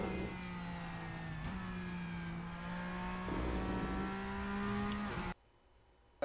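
A Porsche race car engine in the RaceRoom racing sim holds a steady, loud mid-pitched drone, rising slightly in pitch as it pulls through the gears, then cuts abruptly to near silence at the end.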